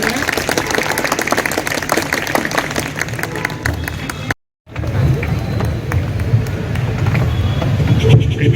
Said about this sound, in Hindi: जोरों से ताली के साथ इनका अभिनंदन करें।